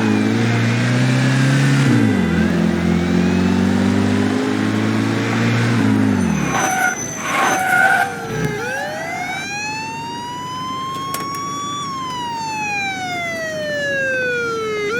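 A car engine in the video game Mafia 2 runs loud during a police pursuit, its pitch dropping through gear shifts, before rising and falling siren wails take over and sweep past.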